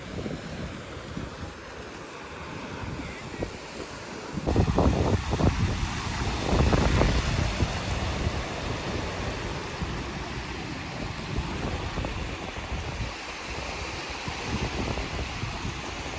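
Steady roar of sea surf beside the Stambheshwar Mahadev temple at Kavi Kamboi, with wind buffeting the microphone, surges of waves building midway, continuous and fairly loud with no talking.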